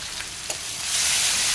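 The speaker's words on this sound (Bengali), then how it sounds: "তো দেখো এটাকে একটু ভালোভাবে আমি ভেজে নেব পেঁয়াজটাকে" Onions sizzle as they fry in oil in a pan, the hiss swelling louder and brighter partway through after a light clink.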